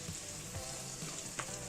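Garden vegetables, salted near the end of cooking once most of their water has cooked off, fry in a pan with a faint, steady sizzle and light crackles, heard alone for a brief moment.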